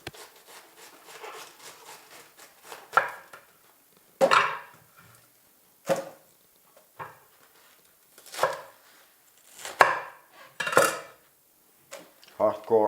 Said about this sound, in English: I got some leftover lettuce. I'm gonna trim it down a little bit.